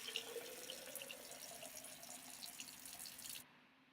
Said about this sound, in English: you can start the running water